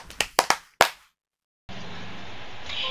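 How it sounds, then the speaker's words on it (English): A grade 4 class does a rhythmic group clap: four sharp, close claps in quick succession, then a brief silence, followed by a steady hiss of noise that lasts to the end. "Give them the paro paro G clap."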